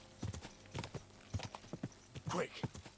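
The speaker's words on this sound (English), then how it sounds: "I love the sound when the horse is running through water." A horse in the video game Kingdom Come 2 runs through water, giving a quick irregular series of hoof splashes and clops, close and fairly faint, with a soft snort near the end.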